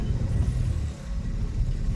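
A manual car's engine during a driving lesson on an empty road as the accelerator is gently pressed, a steady low rumble heard close from inside the car with no talking.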